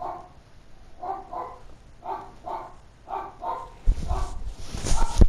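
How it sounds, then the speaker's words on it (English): A dog barks in repeated paired bursts at moderate distance, a hoarse, strained-sounding bark, with louder rustling and handling noise building toward the end. "my dog is dumb and is barking again"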